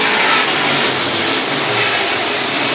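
Street stock race cars roar off at the green flag on a short oval track, a loud, continuous wash of engines revving and accelerating together in a distant field, with no voices over it.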